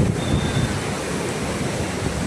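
Sea waves wash steadily onto the Bandstand shore in Bandra, a continuous loud roar of surf with wind buffeting the microphone.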